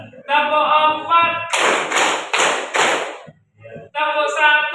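A school class claps four sharp, evenly spaced claps in unison as part of a rhythm exercise, loud and close, framed by a teacher's spoken counting before and after.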